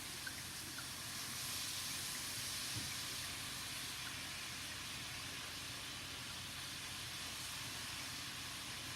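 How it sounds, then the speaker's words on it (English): Bacon sizzling in a Teflon pan, a steady, even crackling hiss that holds at a moderate level throughout with no pauses or voices. "That sizzling sound is like music"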